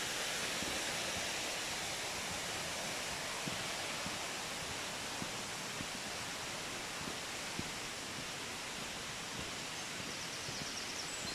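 Water of the River Ogden flows beneath the Ravenshaw Viaduct as a steady, broad rushing wash, even and unbroken throughout, with no voices.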